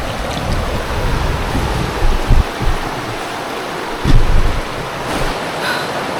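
Cold stream water rushing and splashing around a barefoot hiker wading across on a trail, a steady loud wash with a few heavier sloshes as steps push through the current.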